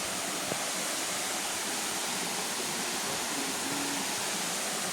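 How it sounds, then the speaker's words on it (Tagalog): Kasyawan Falls waterfall rushing in a steady, dense hiss of falling water, constant and fairly loud with no pauses or voices. "Now you can see the Kasyawan Falls"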